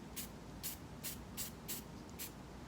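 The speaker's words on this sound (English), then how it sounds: "I'm now going to take my blue and just focus the paint on the star area. So I'm just doing this in small spritz." Blue spray paint comes from a can in short, quick spritzes onto a tumbler. Six brief hissing bursts are spaced about half a second apart, sitting close and fairly quiet over a low background.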